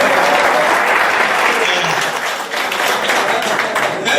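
Audience applause at a union meeting in Polatlı: a loud, full burst of crowd clapping that holds steadily throughout, with a brief dip midway before swelling again.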